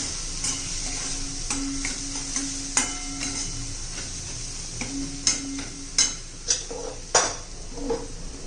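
A spoon stirs spinach with coriander powder and turmeric in a pan, scraping and clinking against the metal with several sharp taps near the end, over a soft steady sizzle.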